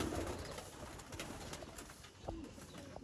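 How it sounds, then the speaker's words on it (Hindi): Soft coos from Sialkoti pigeons sound close by, low burbling calls repeated over a faint background hiss. "ये हैं जी दोस्तों शर्मीले पिजन्स, शर्मीले कबूतर"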